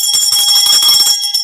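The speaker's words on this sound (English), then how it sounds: "That's 2 bell rings there" A loud electric bell rings with a harsh, sustained metallic clang, two rings running almost together, close and alone.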